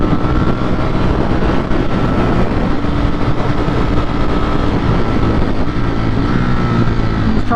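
Ducati Streetfighter V4S engine, a 2021 bike, roaring steadily while riding and climbing into higher RPMs, loud, close and continuous with wind rush and no voices.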